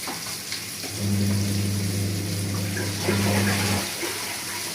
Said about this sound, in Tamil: இப்போ போட்டுக்கிறோம் அந்த வெங்காயத்தை